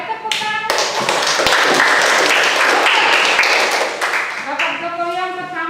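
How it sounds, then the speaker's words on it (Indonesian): Clapping from a classroom audience, a dense patter of hands that starts abruptly, holds steady for several seconds and thins out at the end, with some voices mixed in. "Ya, baik, tepuk tangan."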